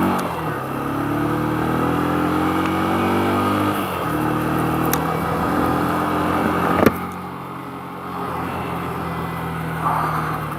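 A motorcycle engine drones steadily close by during a ride, its pitch rising and falling with throttle changes before a sharp knock and a slightly quieter tail.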